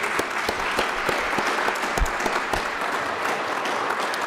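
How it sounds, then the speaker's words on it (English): An audience claps steadily for the full stretch at a Pulaski Day celebration, a dense, even round of applause without cheering. "Let's please give them another round of applause."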